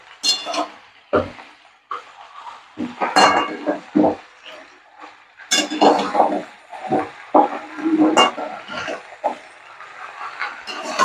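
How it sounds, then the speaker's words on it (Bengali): Bitter gourd and neem leaves stir-fried in a pan for neem sukhto, with irregular spatula scrapes and metallic clanks against the pan coming in close bursts over a soft background of frying. "এবার আমি করলাটাও এর মধ্যে দিয়ে দিচ্ছি, করলাটা দিয়েও আমি এবার কষাবো"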